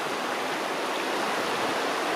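A river in the southern High Tatras rushes over stones with a steady, dense roar of flowing water, close and uninterrupted, with no voices.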